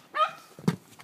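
A dog gives a short, close yelp-like bark, followed a moment later by a dull thump.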